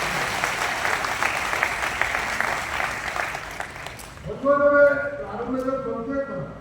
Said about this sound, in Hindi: एक बार पुनः मैं आप सबकी ओर से कहूंगा कि चीज को बहुत जोरदार तालियां बजाकर